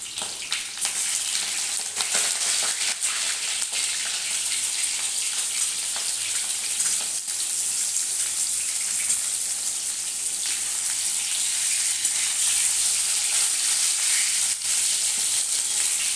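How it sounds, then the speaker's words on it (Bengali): Brinjal (eggplant) frying in a pan for shukto, a continuous close crackling sizzle that holds steady for the whole stretch with faint stirring and no voices. "এরপরে যে সবজিটা ভাজবো সেটা হচ্ছে একটু বেগুনটা ভেজে নিই"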